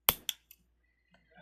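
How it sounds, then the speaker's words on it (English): Two quick snips of scissors trimming beading thread for Superduo leaf drop earrings, crisp and close, followed by faint small clicks and near silence. "You bring it around and you trim."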